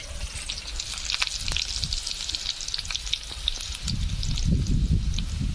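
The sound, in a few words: onions frying in a pan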